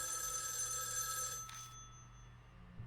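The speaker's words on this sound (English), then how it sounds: "Suddenly the phone from the next room rings." A telephone rings in the next room in the video game Spirit Hunter: NG, a steady electronic bell trill that holds and then cuts off partway through, leaving a low hum.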